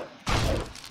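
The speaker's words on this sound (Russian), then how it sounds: "лучник, точно, он что-то пытается в меня стрелять" An archer's arrow strikes the player character in the game Two Worlds, landing as one sudden loud thud-like impact with a crashing burst after a quiet start, then fading.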